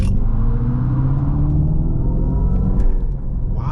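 An electric Dodge Charger Daytona making a light acceleration, its synthetic exhaust sound a loud, deep, steady rumble that rises slightly in pitch, with a brief burble near the end and no talk.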